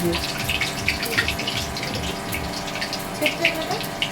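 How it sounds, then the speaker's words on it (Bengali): A tap runs steadily as someone washes their hands in a home kitchen, the water splashing and gushing close by with light clatters mixed in. "তোমার কাছে হাত ধুয়ে নিচ্ছি"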